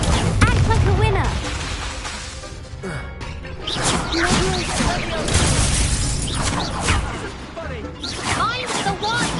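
Spell blasts from a wizarding video game's Confringo explosion curse, several booming crashes and whooshing bursts spread through a busy battle, under frequent excited shouting from a player.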